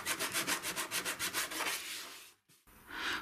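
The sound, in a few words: hand sanding painted wooden chest down to the wood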